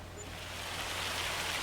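Steady rain in Farming Simulator 25 on the Zielonka map, a soft, dense hiss of falling drops that swells slightly in loudness, heard without talk.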